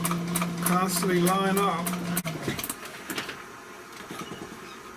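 Sewing machine stitching foam-backed upholstery for a 1973 Limited car armrest, a steady whirring hum through the first two seconds that cuts off abruptly, followed by light handling clatter, with someone talking throughout.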